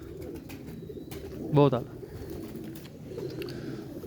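A pigeon gives a single short, clear coo close by, with someone talking in the background before and after it.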